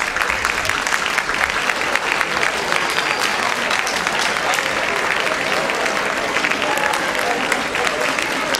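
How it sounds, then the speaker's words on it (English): An audience at a Founders' Day 2014 gathering gives the host students sustained applause, a loud, even wash of many hands clapping close by without a pause, with faint crowd murmur beneath. "let's give them a round of applause"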